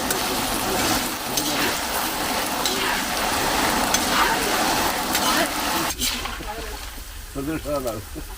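Jackfruit frying in hot oil gives a steady, close sizzle for most of the stretch, then drops away near the end as a voice talks over it.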